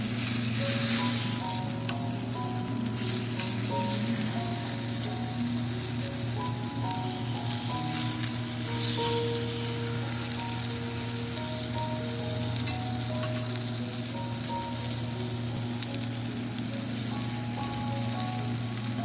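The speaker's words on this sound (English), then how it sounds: "Listen to that sizzle," Salmon fillets pan-searing in a hot pan give off a steady, dense sizzle and crackle that holds evenly throughout, close and continuous, with no talking.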